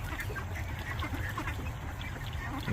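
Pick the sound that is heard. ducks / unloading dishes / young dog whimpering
ducks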